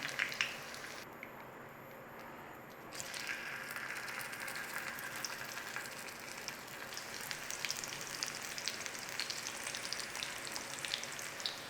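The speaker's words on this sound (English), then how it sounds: "we need to fry them off, and we've only got a small pan" Potatoes fry in a small pan for German-style Bratkartoffeln, giving a steady, close sizzling hiss that dips briefly quieter near the start and then crackles on evenly throughout.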